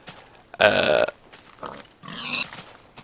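Pig in Minecraft Beta 1.5 giving a few short grunts, close and clear, with brief pauses between them.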